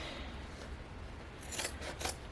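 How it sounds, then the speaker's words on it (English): Scissors trimming the fabric seam allowance of a handbag liner: a quiet rasp followed by two crisp, close snips near the end. "So I'm just going to kind of veer into it, trim that seam allowance"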